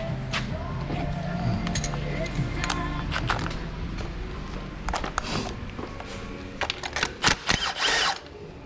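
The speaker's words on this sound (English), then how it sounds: "I do not put spark plugs in with an impact gun. I only take them out with an impact gun." Impact gun working spark plugs out of a 2014 Chevy Equinox engine, a mix of close mechanical rattles and short bursts of whirring, strongest near the end, over a steady background hum.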